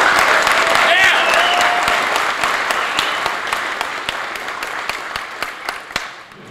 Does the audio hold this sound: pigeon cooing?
no